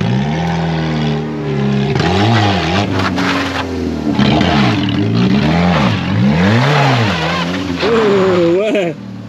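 A car engine revving loudly as the driver gives gas, rising and falling in repeated sweeps close by, with a person talking over it and a brief tire squeal.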